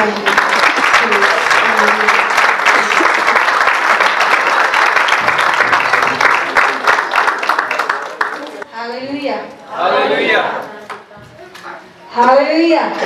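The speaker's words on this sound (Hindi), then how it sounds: "हम जोरदार तालियां बजाएंगे।" A church congregation at a New Year service claps loudly in a dense, sustained round of applause for about eight seconds, then it stops and a voice begins speaking.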